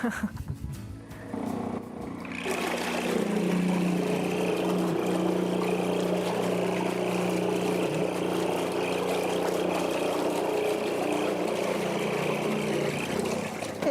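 Once an electric boat propulsion system starts up, its electromagnet-driven membrane, using a coil and magnet in place of a rotary motor, gives a steady buzzing hum with a low droning tone that holds for the rest of the clip.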